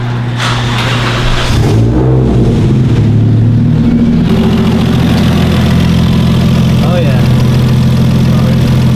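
A Nissan 240SX engine cranks and catches, then settles into a loud, steady, rumbling idle close by, with people talking over it.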